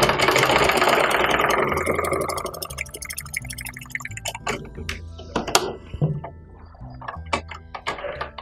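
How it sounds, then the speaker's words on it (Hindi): A repaired sewing machine that had been bunching its lower thread starts up and runs in a dense whirring burst for about three seconds. It then tapers off into scattered clicks and knocks, close by and fairly loud. "अभी हम मशीन को चालू करके देखेंगे कि हमारा प्रॉब्लम सॉल्व हुआ है या नहीं"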